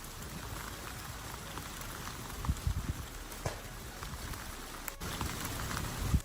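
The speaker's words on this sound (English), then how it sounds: "during a windstorm where it's actively raining" Steady rain pours down during a windstorm, a dense, continuous hiss of drops hitting surfaces nearby, with occasional heavier splats and knocks and no voices.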